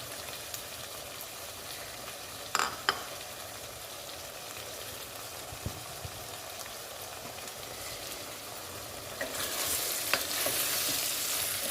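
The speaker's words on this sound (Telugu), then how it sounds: "జీలకర్ర ధనియాల పొడి, అల్లం వెల్లుల్లి పేస్ట్ కూడా వేయించుకోవాలి బాగా వంకాయలతో పాటు" Eggplant pieces frying in oil with cumin-coriander powder and ginger-garlic paste, a steady sizzle with occasional stirring scrapes, growing louder and brighter toward the end.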